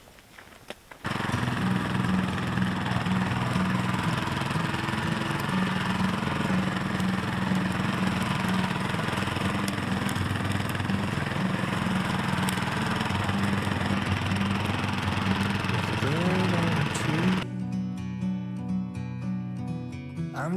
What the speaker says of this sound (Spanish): Ahí estoy quitando la hierba rollo desbrozadora con la moto azada